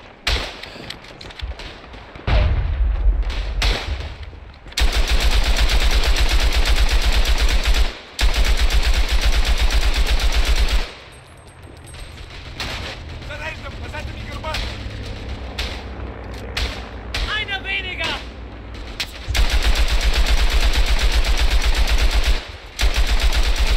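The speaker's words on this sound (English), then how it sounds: "Ooh, MG. I want to do the MG." A machine gun fires in the Tannenberg video game, long loud sustained bursts of rapid automatic fire broken by short pauses, with distant gunfire and battlefield noise between bursts and a voice speaking briefly.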